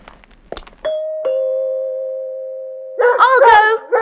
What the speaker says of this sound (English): Then footsteps came up the path and the front doorbell rang.